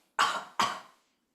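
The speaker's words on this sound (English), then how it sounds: "I'm going to get you to cough" A person gives two sharp, forceful coughs in quick succession, close and loud, each dying away quickly before silence in a quiet indoor room.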